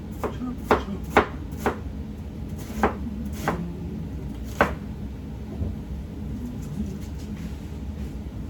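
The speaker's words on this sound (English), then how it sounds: "chop, chop, chop. Throw it in the pan." A knife chops ingredients for paleo curry goat, giving several sharp, separate chops at an uneven pace over a low background hum. Nobody speaks.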